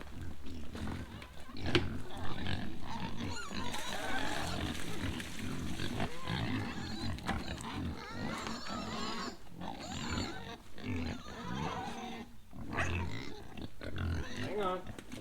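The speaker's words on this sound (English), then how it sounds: "Pigs are always noisy when it's dinner time," Pigs on a farm grunt and squeal steadily for food at feeding time, a dense, loud chorus of overlapping calls close by with no pause.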